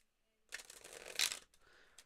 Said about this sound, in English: While I'm shuffling, I'll explain.